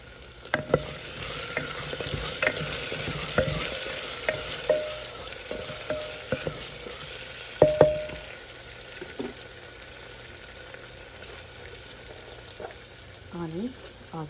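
Colocasia (elephant ear) stirred in a frying pan, with scattered scraping clicks of the spoon over a soft steady sizzle, a few sharper knocks near the middle and a brief squeak near the end.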